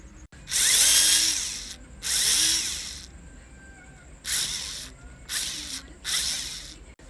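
A power screwdriver whirs in five separate bursts of about a second each as screws are driven into the front cover of a portable Bluetooth FM radio speaker, up close, with quiet pauses between bursts.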